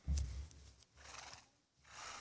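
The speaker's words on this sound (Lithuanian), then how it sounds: "Du arkliai." A Minecraft horse neighs loudly near the start, followed by quieter whinnying and snorting sounds, with no talking.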